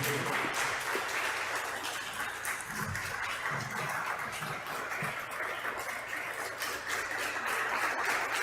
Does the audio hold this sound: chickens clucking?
no